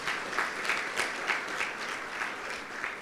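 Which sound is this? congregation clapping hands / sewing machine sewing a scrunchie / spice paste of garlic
congregation clapping hands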